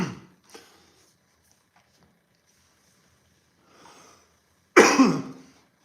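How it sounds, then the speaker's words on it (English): Two or three coughs: a short one at the start, a faint one soon after, then a loud close cough near the end after a quiet stretch. "Got a bit of a cough."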